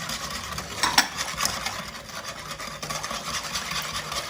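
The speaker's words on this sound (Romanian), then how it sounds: "le amestecăm bine și așteptăm să înceapă să fiarbă" Sugar, egg yolk and flour are stirred in a pot for cream, making continuous scraping and rubbing strokes of a utensil against the pot with a steady rhythm and no talking.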